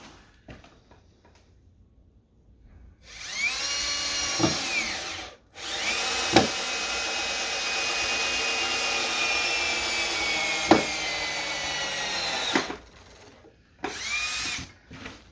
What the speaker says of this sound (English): Let's see if this drill has enough power.